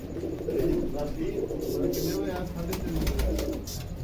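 Pigeons being fed grain coo softly and repeatedly close by, their low burbling calls overlapping, while a person talks over them.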